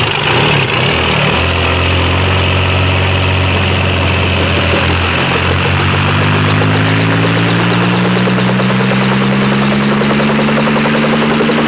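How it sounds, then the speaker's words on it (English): A helicopter heard close and loud, with a continuous heavy engine drone and rotor thrum whose pitch rises steadily as it passes overhead, with no talking. "Copter. A real instrument of mercy, I'd call it."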